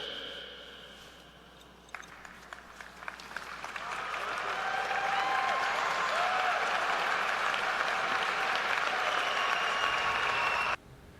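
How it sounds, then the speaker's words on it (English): An audience at a university commencement bursts into applause for an honorary degree recipient, starting with scattered claps and building into a loud, sustained ovation that stops abruptly near the end. "they gave him a sustained applause"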